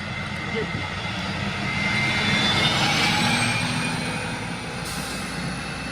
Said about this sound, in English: How common the sound of that Series 50 engine was in New York City for many years.